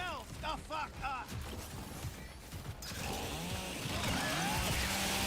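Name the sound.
chainsaw in chainsaw mode, from a video game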